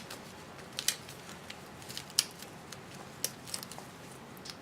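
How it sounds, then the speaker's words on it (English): Backing papers are torn off kinesiology tape, with a few sharp, faint paper rips and crinkles spaced out over several seconds in a quiet room. "tearing both backing papers."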